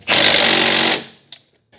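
A power tool runs in one loud burst of about a second while tightening transmission mount bolts on an EG Honda Civic during a B-series swap, followed by faint clicks.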